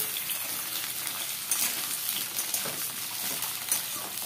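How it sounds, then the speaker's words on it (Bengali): Potato and pointed gourd fry together in a pan, giving a dense, even sizzle that runs unbroken at close range with faint crackles and no talking. "আলু আর কাঁকরোলটা একসাথেই ভাজবো, একটু লালচে করে ভেজে নেব।"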